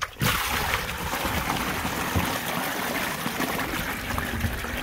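Steady trickling and splashing water drains from a koi pond filter chamber, running continuously, fairly close, with no voices.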